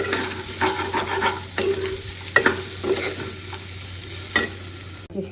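Potato and onion bhaji sizzles steadily in a frying pan while a utensil stirs and scrapes through it in repeated strokes, close and fairly loud, with no voices.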